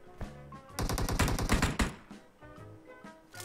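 AUG assault rifle fire in PUBG Mobile, a dense fast burst of loud rattling shots in the middle with sparser single shots and clicks before and after.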